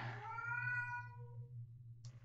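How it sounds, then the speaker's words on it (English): Cat in the horror video game The Crooked Man gives a single drawn-out meow, clear and close, fading over about a second over a low steady hum, followed by a brief faint click. "Cat."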